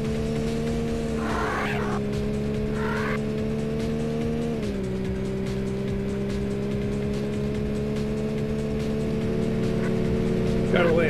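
Porsche race car engines in the Need for Speed racing game, a steady sustained drone with a pitch shift partway through and brief tire-squeal chirps, heard continuously and fairly close.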